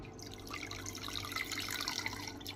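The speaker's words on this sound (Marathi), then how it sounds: "आता मातीच्या मडक्यामध्ये दूध व्यवस्थित काढून घेतलेले आहे" Milk pours in a steady stream into a small clay pot for a few seconds, a close, continuous liquid splash with no talking.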